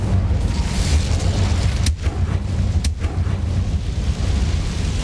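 Incendio fire spell cast in Hogwarts Legacy, a rumbling whoosh with two sharp bursts close together, set against a low, steady game backdrop.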